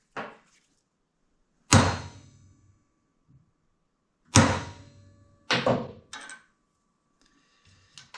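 A hammer strikes rivets into the brake lining of a 1939 Caterpillar D4 tractor held in a vise. About six sharp metallic blows land at irregular intervals, some ringing briefly, with quiet gaps between and no voices.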